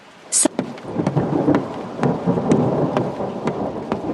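Thunder rumbles through steady, loud rain in a stormy outdoor scene, with a sharp crack early on and a continuous wash of downpour underneath.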